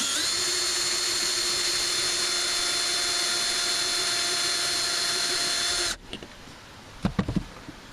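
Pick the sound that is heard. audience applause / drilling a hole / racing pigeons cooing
drilling a hole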